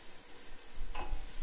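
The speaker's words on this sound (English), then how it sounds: "I'm going to stir this together." Garlic is stirred in a pot for jambalaya: a quiet, soft sizzle with a brief scrape of the spoon partway through.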